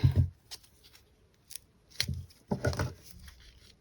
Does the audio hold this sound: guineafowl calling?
no